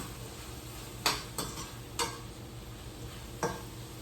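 Quartered mushrooms stirred in a pan, a faint soft sizzle under a few sharp clicks and scrapes of a utensil against the pan at irregular intervals.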